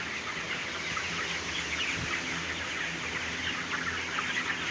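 Chickens clucking inside a hot poultry shed, a crowded flock of soft overlapping clucks and calls at moderate distance, continuous over a faint background hum, no talking.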